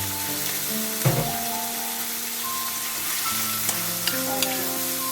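Mixed vegetables hit hot cooking oil for pork chao fan and sizzle loudly up close, a dense frying hiss with a few stirring knocks and shifting tones, and no talk.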